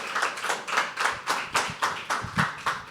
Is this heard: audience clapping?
yes